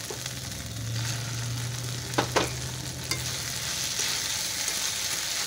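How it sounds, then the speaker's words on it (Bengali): Tomato sautéing with fried onion paste in a pan, giving a steady close sizzle with a low hum underneath and a couple of sharp spoon scrapes midway, no voices. "ভালো করে কষিয়ে কষানো হয়ে গেছে, এবার দিয়ে দেবো টমেটো"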